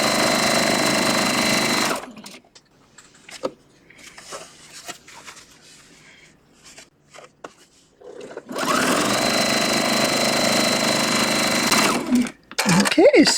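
Sewing machine chain piecing quilt blocks from charm squares, running in two long loud bursts at the start and end with a quieter stretch of handling noise between, and a voice talking briefly.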